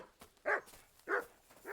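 A dog in the medieval game Kingdom Come Deliverance II gives three short, fairly faint barks spaced evenly apart over a low background hush.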